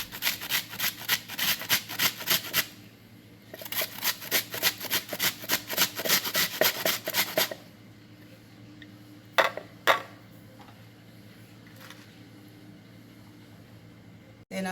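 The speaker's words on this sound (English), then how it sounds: "Then I'm going to add my onion, which I'm going to grate." An onion rubbed against a grater for Jamaican coleslaw produces two runs of quick, rhythmic rasping strokes close by, followed by a quieter stretch with a few isolated clinks and knocks.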